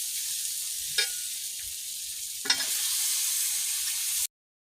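Chicken pieces fry with tomato in a pan for chicken curry, a continuous hissing sizzle with two sharp clatters of ingredients going in, before cutting to silence near the end.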